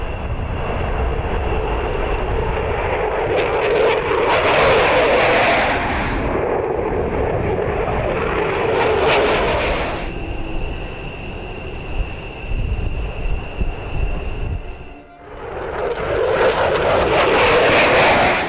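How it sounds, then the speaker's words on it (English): Military jet engines roar through a takeoff run, loud and sustained. The rumble swells and holds for most of the stretch, broken by one brief dip near the end. "The engines roar, the aircraft surges ahead, and in seconds, it's airborne."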